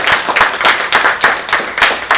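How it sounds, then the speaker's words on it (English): An audience at a Buffalo community story forum applauds the elders, steady mixed clapping from a medium-sized crowd, fairly close and continuous for a couple of seconds with no talk. "let's give our elders a round of applause"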